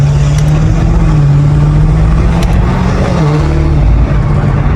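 A BMW F90 M5 Competition runs in comfort mode, its engine giving a loud, close, deep steady drone with a slight swell in pitch partway through, no voices over it.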